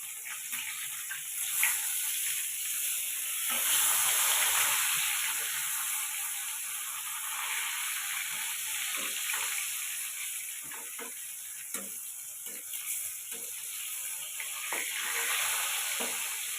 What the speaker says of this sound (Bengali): মাছগুলো আমি লাল করে ভেজে নেব।